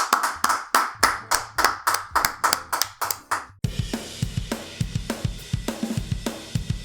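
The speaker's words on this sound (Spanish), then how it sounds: "Un aplauso, chingada madre." Rhythmic, evenly spaced hand claps from a small group, crisp and close, shifting midway into faster, denser clapping with some thumps and voices underneath.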